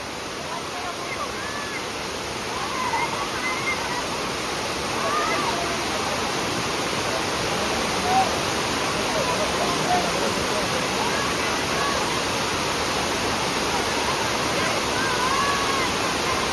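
Waterfall at Sondai fort, a continuous broad roar of falling water that stays steady and fairly loud from start to finish, with faint voices now and then beneath it.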